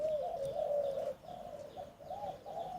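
A spotted dove coos in repeated rhythmic phrases, close and clear, with a quiet background.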